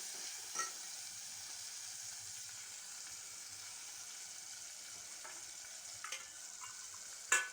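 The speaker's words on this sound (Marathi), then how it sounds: "आता हे सर्व मिश्रण चांगलं परतून घेऊया." A fenugreek and moong dal mixture is stirred in a pan, giving a soft, steady sizzle with occasional scraping clicks of the spatula, close and quiet with no talking.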